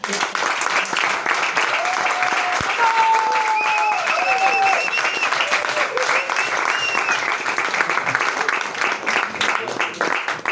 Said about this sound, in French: Veuillez faire un tonnerre d'applaudissements pour Baptiste